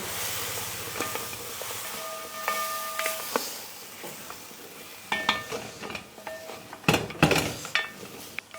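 Onion, garlic and ginger paste is stirred into trotters in a pot for a Mumbai hotel-style recipe, the spoon scraping in uneven strokes over a steady sizzle, with sharper clanks toward the end.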